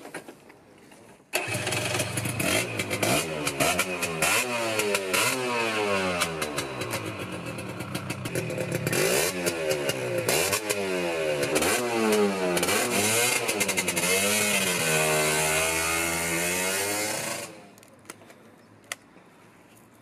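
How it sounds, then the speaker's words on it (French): A borrowed two-stroke motorcycle fires up and runs loud and close, its engine revving repeatedly in rising and falling sweeps for about sixteen seconds before cutting off abruptly, with no one talking over it. "On va essayer ce 2 temps, prêté par Marc Alias"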